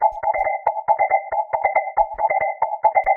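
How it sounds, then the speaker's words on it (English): A techno synth sound run through a spectral resonator gives a muffled, underwater percussive quality: repeated short pulses in a steady hypnotic rhythm with a faint high metallic ping, loud and alone. "And then the spectral resonator."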